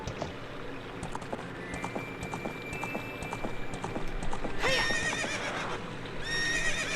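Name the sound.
horse neighing and galloping in video game Ocarina of Time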